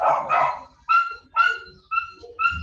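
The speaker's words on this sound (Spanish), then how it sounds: "No sé qué les pasa a mi perro que se puso a ladrar constantemente." A dog barks in a quick run of five sharp, close barks, the first two rougher and the rest more yelping, loud and alone without talking.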